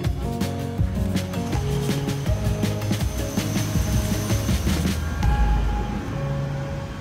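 Inside an airplane cabin on a flight to Sydney, a steady engine drone under clinks, taps and rustling from nearby movement, with a low rumble swelling near the end and no talk.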